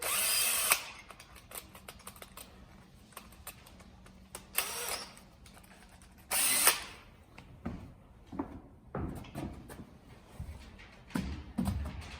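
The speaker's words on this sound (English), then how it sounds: "I will try the big auger bit." A power drill with a big auger bit bores through a wooden stud, in several whirring bursts that rise and drop, with short pauses and louder stretches of motor strain between them.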